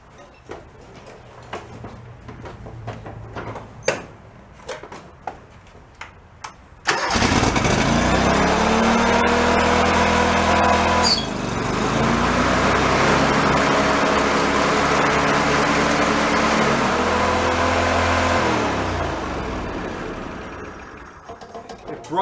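A John Deere engine bought at a yard sale cranks, then catches and runs with a loud, steady roar, revs up even higher midway and drops back to a lower running pitch near the end, after several seconds of quiet clicks and knocks.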